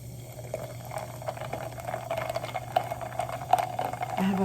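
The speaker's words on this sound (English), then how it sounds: "I have a cola champagne that I'm gonna be drinking. So let's pour up." Cola champagne pours into a big glass, a fizzy, bubbling liquid rush that builds slightly in loudness over a steady low hum, close to the microphone.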